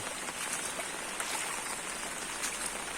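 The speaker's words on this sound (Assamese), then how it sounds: "এইটো চিচি ব্লক ওপৰতে পানী যাই আছে।" Floodwater flowing across a newly built concrete block road, a steady broadband rush and patter with no clear pauses, close and even in level throughout, with no one talking.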